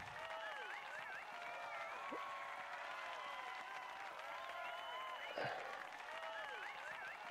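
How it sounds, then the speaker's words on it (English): Crowd cheering and applause from the end screen of the casual video game Delicious Emily's Holiday Season, a steady wash of clapping under game music and chimes, with a person talking over it. "And I just hear the audience cheering."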